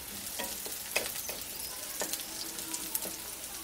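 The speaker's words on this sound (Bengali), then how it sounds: "এখন আমি এর মধ্যে দিয়ে দিচ্ছি কুচানো গাজর।" Chopped carrots are tossed into frying noodle vegetables for vegetable masala noodles, making a soft, steady sizzle with a few light stirring clicks and scrapes close by.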